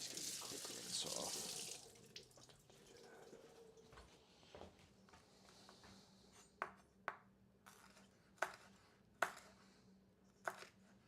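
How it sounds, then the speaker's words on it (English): Kitchen tap running for a quick rinse at a sink, a soft hiss of flowing water for about two seconds, then quieter handling with several sharp clinks and pings from dishes. "Quick rinse off."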